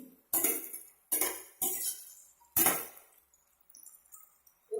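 A spoon stirs chilli paneer with sugar and red chilli powder in a pan, making four sharp metallic clanks against the pan, each fading into a short scrape before the next.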